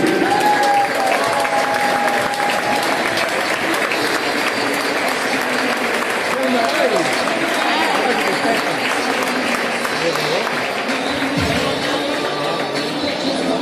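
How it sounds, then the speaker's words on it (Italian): Sustained audience applause at an under-16 girls' volleyball award ceremony in Verona as Arena Volley takes fourth place: a thick, continuous roar of clapping that runs unbroken from start to finish, with some crowd murmur and voices mixed in. "Un super applauso per Arena Volley"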